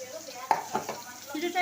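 Pointed gourd frying in a pan, soft sizzle with a couple of stirring scrapes, brief and moderately quiet.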